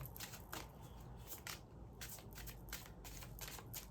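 A Samhain oracle deck of cards being shuffled by hand, a soft continuous papery riffle with repeated flicks and slaps, quiet and close with no talking.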